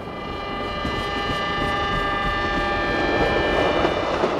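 A train on the Qinghai-Tibet railway makes a steady, continuous rumble with a sustained tonal hum, holding at an even level throughout without any voices.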